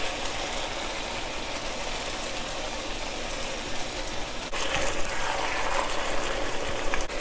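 Black Chinese vinegar is poured into a reducing sauce for Sichuan fish fragrant eggplant with pork, a steady bubbling sizzle that gets louder midway with a watery splash and keeps going.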